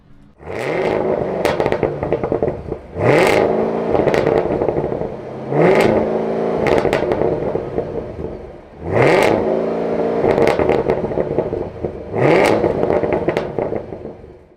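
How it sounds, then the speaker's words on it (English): Chevy Camaro ZL1 V8 engine revving hard in repeated bursts, about five loud surging revs with crackling pops between them, close and alone without talk. "we've got the Camaro ZL1. Listen to that engine."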